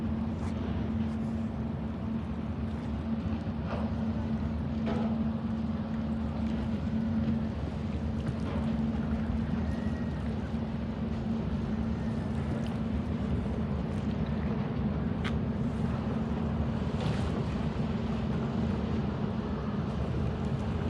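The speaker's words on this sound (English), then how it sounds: "maybe we can hear the engine, the propeller hitting against that ice" Low, steady engine and propeller rumble from the 1,000-foot ship American Century moving through ice in a canal at the Duluth, MN harbor, a continuous drone heard from a distance with faint scattered knocks.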